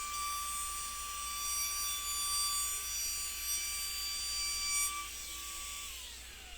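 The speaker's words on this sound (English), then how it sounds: "I took a roundover bit, just to put a nice little 1/2 inch roundover on the edge of the boards" A router fitted with a 1/2 inch roundover bit runs along the edges of glued-up wooden boards, giving a steady high whine with a strong tonal hum that holds evenly before easing down near the end, with no talking.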